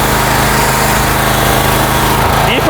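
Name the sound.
SB Tools 4,000 PSI pressure washer running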